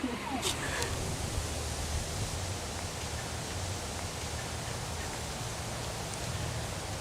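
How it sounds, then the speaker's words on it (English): Steady wind buffets the microphone with a continuous low roar and rumble, gusting slightly throughout with no clear pauses, outdoors on a day for kite flying. "It's finally windy."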